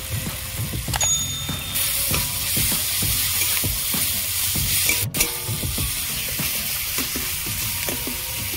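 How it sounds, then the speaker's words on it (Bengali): Garlic paste sizzles in a pan with fried onion, tomato and green chilli, giving a dense, continuous crackle broken by stirring scrapes and light clinks close by. "রসুন আমি ভালো করে ভেজে নিয়েছি"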